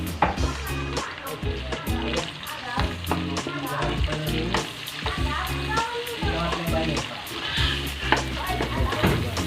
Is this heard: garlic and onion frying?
yes